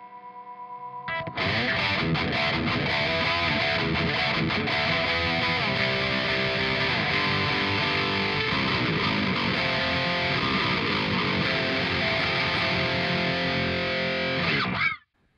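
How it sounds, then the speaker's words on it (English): An electric guitar through a Joyo Dark Flame modern metal distortion pedal plays continuously for about fifteen seconds, heavily distorted, thick and sustained with chord and riff changes, then cuts off abruptly. "So it's definitely a modern distortion."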